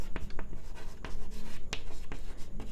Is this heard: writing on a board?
yes